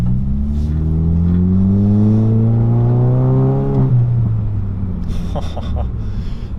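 A Saab 9-3 turbo running octane booster accelerates hard, its engine note climbing steadily and loudly for several seconds, then dropping away at a shift as the car pulls on; close and dominant, no talking.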